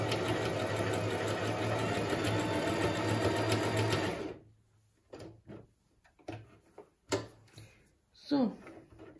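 A Singer Talent 3321 sewing machine stitches in a loud, rapid, continuous whir for about four seconds, then stops, followed by a few quiet clicks and handling knocks.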